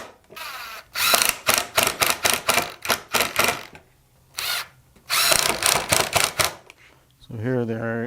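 A power drill drives screws with a rapid, stuttering whir that bursts on and off in short pulses, close by, with pauses between runs and someone speaking briefly.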